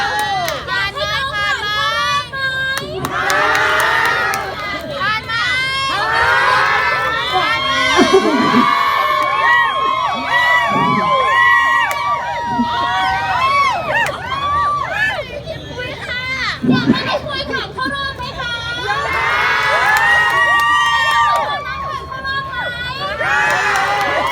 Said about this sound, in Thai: ยังไงฝาก แม่ๆทุกคนนะคะ ช่วยเชียร์แล้วก็เป็นกำลังใจ